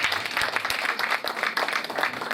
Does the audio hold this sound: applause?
yes